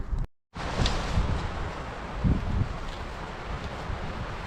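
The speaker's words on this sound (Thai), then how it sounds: "ได้ยินเสียงลมไหมคะ" Wind gusting outdoors in a forest while foraging mushrooms, with a steady broadband rush and rustle of trees, close and fairly loud, after a brief dropout at the start.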